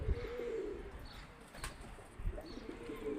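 Pigeons coo softly and steadily at close range, with a brief burst of wing flapping partway through over a low background hum.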